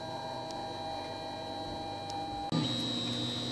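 A Printrbot Simple Metal 3D printer lays down the first honeycomb layer with a steady whirring stepper hum and faint ticks, then shifts abruptly to a louder, higher motor tone partway through, with no talking.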